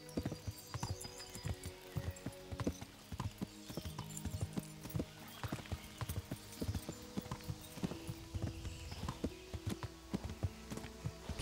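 Horse hooves clip-clop steadily along in the medieval video game Kingdom Come: Deliverance, a continuous quiet walking rhythm with no voices over it.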